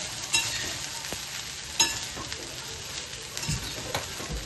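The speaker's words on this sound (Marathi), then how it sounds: "छान ह्याला एकजीव करून घेऊ आणि याला चांगलं शिजून देऊ" Sabudana khichdi cooks in a pan while being stirred, a steady sizzle with a few scraping spoon strokes and occasional clicks against the pan.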